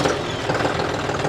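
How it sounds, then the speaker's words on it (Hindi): A John Deere 5210 4WD tractor engine turns over and runs with a loud, rough diesel clatter, its close knocking rhythm continuous through the brief moment. "सबसे पहले हम ट्रैक्टर को स्टार्ट कर लेते हैं।"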